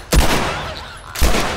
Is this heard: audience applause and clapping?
no